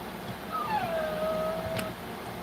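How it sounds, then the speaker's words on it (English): A dog crying indoors, one thin high whine that slides downward and trails off, faint and somewhat distant over a steady background hum, with no talking. "That's my dog crying."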